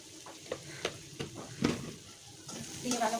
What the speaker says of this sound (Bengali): আমার পেঁয়াজ আর রসুনটা ভাজা হয়ে গেছে